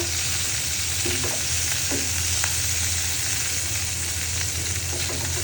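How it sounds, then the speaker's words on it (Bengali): Chopped onions fry in a pan with a loud, continuous crackling sizzle, close up, broken by a few faint scrapes of a stirring spoon. "পেঁয়াজ কুচি একটু লাল লাল করে ভাজবো পেঁয়াজটা"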